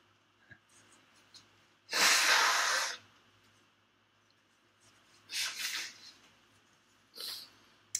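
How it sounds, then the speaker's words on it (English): A person blows their nose in three loud, breathy bursts: a long one, a shorter double blast, then a brief final puff, with quiet gaps between. "I'm about to blow my nose."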